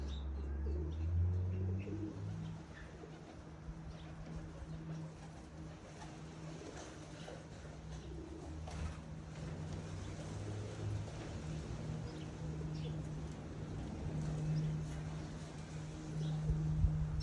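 Soft pigeon coos sound over quiet outdoor background noise while the birds are being fed, low repeated calls spaced through the stretch, fairly near but gentle, with no speech.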